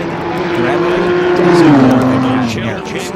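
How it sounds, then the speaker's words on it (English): Racing car engine at an Audi race meeting, with revs climbing and falling in a loud sustained drone that rises, peaks, then dips, over a commentator's talk. "Revs starting to rise."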